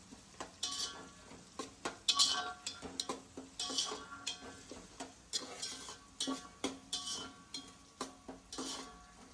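Onion frying in a kadhai for chicken biryani at home, a spatula scraping and stirring in quick irregular strokes over a faint sizzle, close and fairly quiet with no talk.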